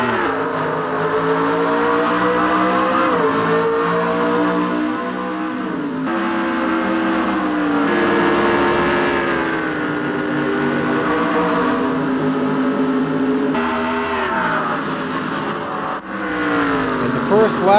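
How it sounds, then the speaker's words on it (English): Race cars lap Richmond in a Pokemon-themed NASCAR racing video game, engines droning and shifting pitch continuously and loudly, with an excited commentator talking over the racing throughout. "We're about to go green flag racing here at Richmond."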